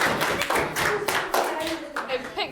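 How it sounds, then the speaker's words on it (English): A classroom of pupils claps for a classmate's reading aloud, a dense patter of small hands sustained for a couple of seconds, with children's voices mixed in. "I think that deserves a clap too."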